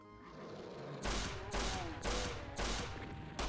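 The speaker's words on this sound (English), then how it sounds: "hunting shotgun. This is your standard shotgun." A hunting shotgun in the Doom mod Innawoods fires five loud booming blasts at an even pace, roughly every half second, each with a short decaying tail and no voices.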